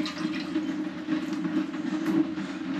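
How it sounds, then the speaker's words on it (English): Water from a cracked brand-new toilet runs steadily in a continuous, even trickling rush at close range. No speech is heard over the sound. "and the water's running through."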